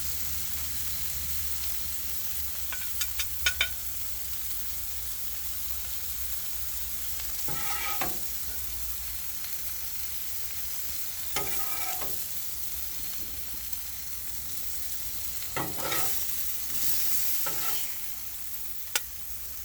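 Asparagus sizzles steadily on a Blackstone griddle, a continuous hiss broken by a few scraping stirs and clicks of a utensil against the flat top.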